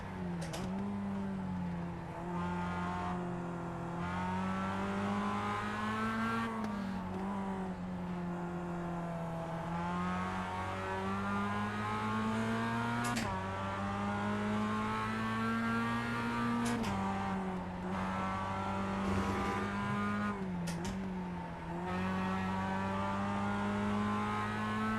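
Simulated Mazda MX-5 race car in iRacing at Okayama, engine droning steadily with pitch rising and falling through gear changes and corners, occasional tire squeal, loud and continuous with no talking.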